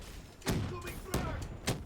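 Frag grenade explosions in Call of Duty Black Ops 3 multiplayer, three short thumping blasts about half a second apart amid steady game noise, fairly muted rather than loud.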